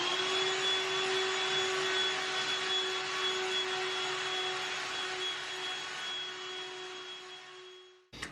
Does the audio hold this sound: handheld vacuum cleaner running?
yes